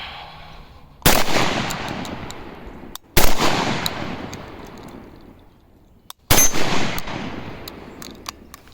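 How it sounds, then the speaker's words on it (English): An Iver Johnson HP18 budget pump shotgun fires three loud, close blasts at steel targets, each a sharp boom with a long echoing decay, spaced a couple of seconds apart outdoors, with faint metallic pings from the steel. "We'll shoot the steel."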